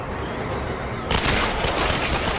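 Dual pistols firing in a Tomb Raider video game: dense, continuous gunfire crackles over a noisy game soundtrack, loud and busy throughout the second half.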